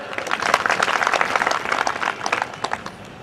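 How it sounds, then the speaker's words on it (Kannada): An audience claps at a spiritual discourse on Basava's teachings, a short burst of dense, close applause that swells and tapers off over a few seconds. "ದೇವರಾಗಿ ಚಪ್ಪಾಳೆ ತಟ್ರಿ"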